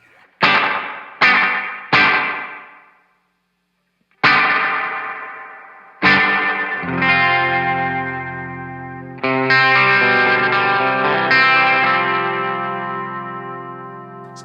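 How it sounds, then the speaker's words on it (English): Electric guitar played through an Eastwood Black Box reverb pedal: a few single plucked notes and then sustained chords, each ringing out with long, lush reverb tails that swell and slowly fade, with no voices. "Obviously, dwell will give you longer reverb."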